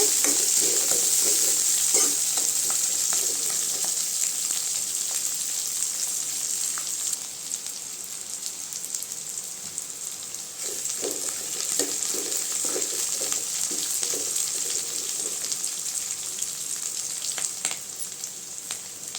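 Onions are sautéed in a pan for a mushroom curry, with a loud, constant sizzle and bursts of spatula stirring scrapes scattered through it, close by and with no voices.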